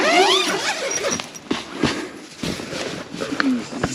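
A zipper on a SmittyBilt Gen 2 rooftop overland tent mounted on a Jeep Gladiator EcoDiesel is tugged in several short, close rasping pulls, with light rustling and birds faint in the background.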